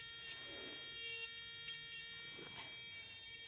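A podiatry nail drill fitted with a carbide burr runs on a toenail, a thin high-pitched whine that holds steady and fades slightly near the end.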